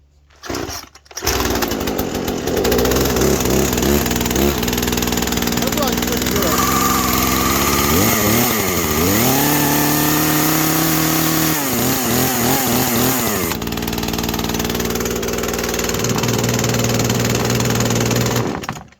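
A Poulan Pro 42 chainsaw with an 18-inch bar starts and runs loudly up close, revving up and down between cuts and idling, with someone talking over it.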